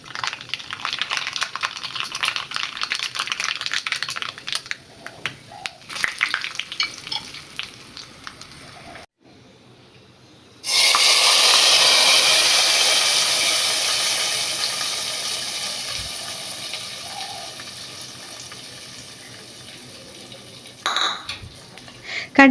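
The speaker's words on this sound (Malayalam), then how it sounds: "വെളിച്ചെണ്ണയിൽ തന്നെ കടുകും ഉലുവയും വറ്റൽമുളകും കറിവേപ്പിൻ്റെ ഇലയും ഇട്ടിട്ട് നമുക്ക് നന്നായിട്ട് താളിച്ചിടാം" Mustard seeds, fenugreek, dried chillies and curry leaves hit hot coconut oil for a Kerala tempering, first crackling and spattering steadily, then a loud sudden sizzle that slowly fades, with a few utensil knocks near the end.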